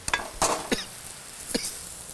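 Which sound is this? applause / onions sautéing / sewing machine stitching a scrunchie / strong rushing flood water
onions sautéing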